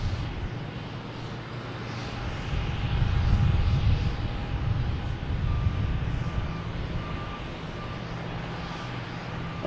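A Lufthansa Airbus A340 airliner rumbles at Boston Logan Airport with a broad, steady engine roar that swells and then eases, heard at a distance with a faint tonal whine and no talking.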